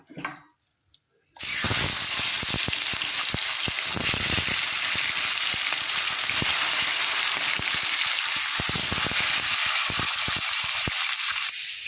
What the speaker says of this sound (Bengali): ওই তেলেই বাদবাকি মাছগুলো আমি ভেজে নেব।